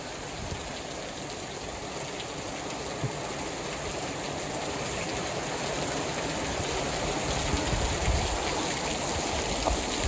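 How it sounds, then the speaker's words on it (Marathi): Heavy rain pours down steadily with floodwater rushing through a village, a dense continuous wash of noise at moderate level, no voices. "पाऊस कसा पडतोय जोरात"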